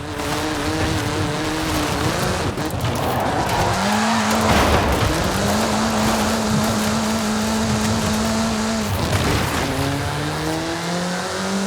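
A VUL 05RR supercar in Forza Horizon 5 roars at high revs, its engine note rising and dropping through gear changes with tyre squeal and skids, loud and continuous.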